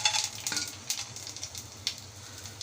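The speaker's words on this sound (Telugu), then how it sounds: "మసాలా మొత్తం వేయించాలి మొత్తం వేయించాలి" Paneer curry masala frying in a pan, a soft continuous sizzle with brief scraping stirs and clinks of a utensil against the pan, close and fairly quiet throughout.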